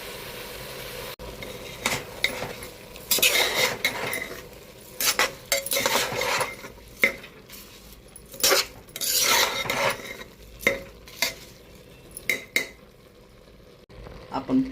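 Washed rice tipped into a pot of tomato, garam masala, salt, turmeric and chilli powder, followed by repeated scraping and clinking of a spoon against the pot, with faint sizzling between the clear metallic knocks.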